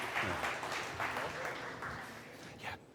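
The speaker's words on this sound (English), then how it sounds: "Please give a huge round of applause to your moderator for the next panel, Paul Navarro" At a conference panel session, an audience claps for the moderator, with fairly quiet, scattered applause partly blended with voices nearby.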